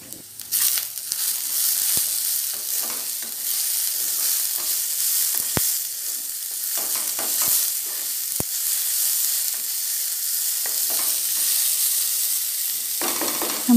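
Bottle gourd peels fry on high flame as they are pressed down in the pan, a loud, steady, dense sizzle with a few sharp clicks and crackles, heard close with no talking.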